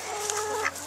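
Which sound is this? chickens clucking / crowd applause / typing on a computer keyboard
chickens clucking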